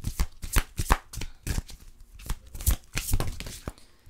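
Tarot deck being shuffled by hand before a card is drawn, a close, busy flutter of card riffles and soft slaps in uneven bursts, with no talk.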